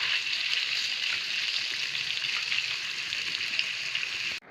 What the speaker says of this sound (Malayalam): അതിലേക്ക് നമുക്ക് മുളകും മഞ്ഞൾപ്പൊടിയും ഒക്കെ തേച്ച് വെച്ച നമ്മൾ നെത്തൽ അതിലേക്ക് ഇട്ട് കൊടുക്കാം